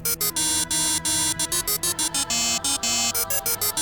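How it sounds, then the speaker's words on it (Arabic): A telephone rings in rapid electronic pulses, a dense rhythmic train of on-off bursts, steady and fairly loud with nothing else under it. "وصحيت على رن التليفون"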